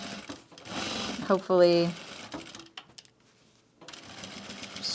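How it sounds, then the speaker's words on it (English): A sewing machine top stitches around the perimeter of a wool duffle bag, giving a brief, close mechanical whir with a rapid stitching rhythm. Someone speaks around it. "All right, so I'm going to top stitch around the perimeter now."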